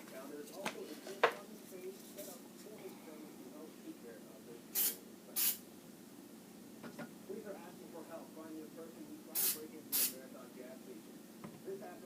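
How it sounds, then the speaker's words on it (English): Silicone squirted from a spray bottle into acrylic paint for a flip cup pour: two pairs of short, sharp hissing sprays over quiet background with faint handling noises. "And then we're going to squirt some silicone in there."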